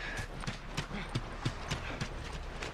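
Horse hooves clip-clop in The Last of Us video game, a quiet, evenly spaced series of hoofbeats under a low background hum.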